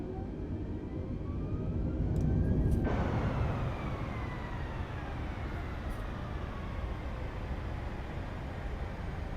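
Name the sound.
aircraft taxiing, from video game Microsoft Flight Simulator 2020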